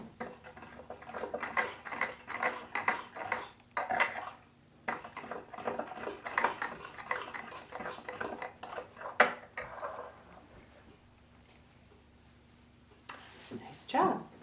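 A metal fork clinking and scraping against a bowl of cake batter, a steady run of quick taps and stirs, with people talking over it throughout.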